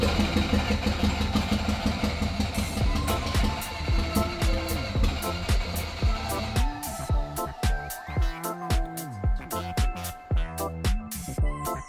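A Corvette's semi-peripheral-port two-rotor rotary engine with timing that is off cranks and fires up, then idles roughly with loud uneven pulses and sputtering revs close by.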